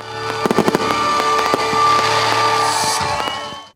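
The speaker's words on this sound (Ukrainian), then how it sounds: "святковий феєрверк у нічному небі надовго запам'ятається всім" Festive fireworks over a village celebration at night burst in a quick cluster of sharp cracks, then a long loud crackling roar that thins out into scattered pops and fades.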